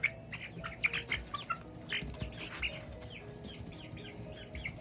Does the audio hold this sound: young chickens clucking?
yes